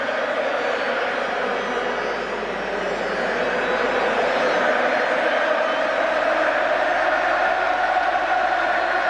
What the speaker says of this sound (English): Well, the crowd are really excited now.